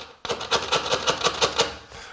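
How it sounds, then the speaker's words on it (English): Glazing sprigs are tapped into a window frame with the side of a chisel while fixing a broken pane, giving about a dozen quick, sharp, evenly spaced taps that sound loud and close. "It's easier if you tap them in with the side of a chisel first."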